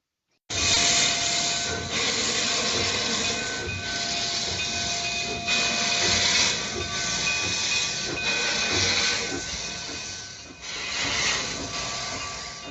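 A steam train chuffs and hisses loudly, with rhythmic bursts of steam and a faint whistle tone running through it.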